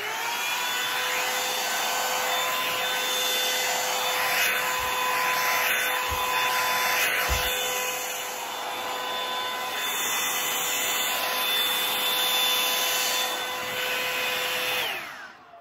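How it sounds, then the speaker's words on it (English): A Revlon hot-air dryer brush blow-dries hair with a continuous, loud, close whine and rushing airflow. A few soft bumps and rubbing sounds come through before it cuts off at the end. "This is what I'm using, the Revlon brush."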